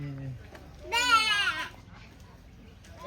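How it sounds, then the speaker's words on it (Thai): A goat gives one loud, quavering bleat in the middle, framed by someone talking before and after it. "แพะค่ะ"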